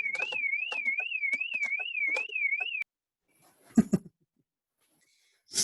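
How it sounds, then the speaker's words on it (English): A car alarm wails with a rising and falling siren tone, steady and moderately loud, overlaid with soft clicks and knocks, then cuts off abruptly and leaves near silence broken by a brief bump of handling. "Yeah, the car alarm."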